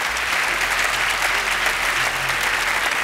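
A studio audience at a German TV game show claps in a dense, steady burst of applause, filling the room evenly from start to finish with no voices on top.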